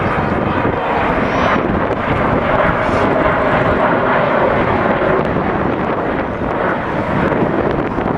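An Avro Vulcan XH558 bomber roars overhead at a Scottish air show on Ayr beach, a loud, continuous howling rumble with wind buffeting the microphone throughout.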